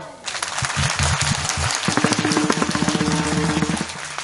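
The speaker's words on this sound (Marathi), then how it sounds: "एकदा बेंबीच्या देठापासून जोरदार टाळी वाजवा" An audience at a Marathi kirtan claps loudly together, a dense, sustained burst of applause that builds over a few seconds, with a harmonium-like tone and a voice sounding underneath.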